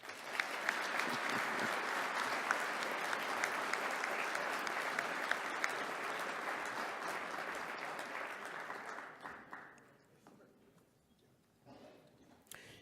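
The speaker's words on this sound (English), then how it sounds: "a round of applause" Sustained applause from a sizable crowd at an awards ceremony, even and steady for several seconds before thinning out and fading.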